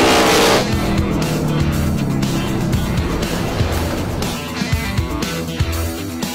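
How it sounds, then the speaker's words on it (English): Loud NASCAR race car engines roar and whine close by, with revving pitch changes and occasional tire noise, continuous throughout and no talking. "we're here with Stuart Haas, with the NASCARs, and got to drive some really cool cars"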